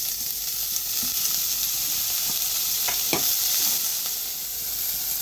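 Onions and tomatoes sizzle in a pan with a steady close hiss, and a few soft scrapes and clicks of a stirring spoon come through over several seconds.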